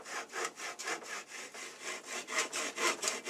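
Japanese hand saw cutting through wood, steady rhythmic rasping strokes, about three per second, close and moderately quiet with no talking.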